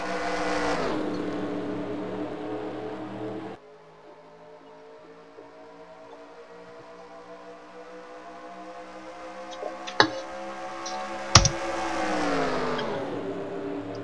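NASCAR Sprint Cup stock cars roar past at the 2014 Aaron's 499, a loud engine drone that drops away to a quieter distant rumble, then swells again as the pack returns, with a couple of sharp knocks along the way.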